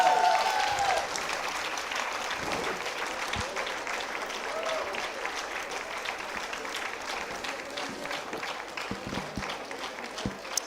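Audience applause at a university convocation, a steady crowd of hands clapping throughout, moderately loud and fading slightly toward the end, with a voice briefly audible under it at the start.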